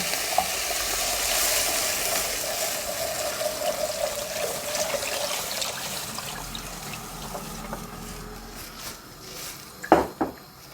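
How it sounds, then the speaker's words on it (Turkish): Water poured onto roasted flour for Turkish tutmaç soup sizzles and hisses loudly in the pan, fading gradually, followed by a few sharp clinks of a utensil against the pot. "Evet unumuz da kavruldu. Suyuna ilave edelim."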